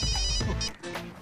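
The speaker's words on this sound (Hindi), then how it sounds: "मेरी बीवी का फोन।" A telephone rings indoors in a short burst of ringing, set against a busy, full background of other sound with no talk over it.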